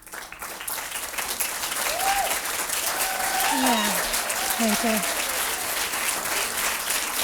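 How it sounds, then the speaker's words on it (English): Sustained audience applause fills a hall at an evening event honoring supporting partners and foundations, steady and loud throughout, with a voice and a few whistles or cheers rising above the clapping. "so that we can give you a round of applause tonight"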